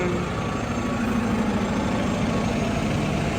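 An FDNY fire engine idles on scene at an incident, producing a steady, low, continuous engine rumble without change, with no voices.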